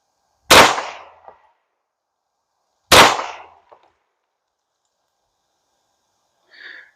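Two sharp, loud handgun shots from a Canik Rival firing Winchester Silver Tip rounds, a few seconds apart, each followed by a brief tinkle of ejected brass, then a short faint sound near the end.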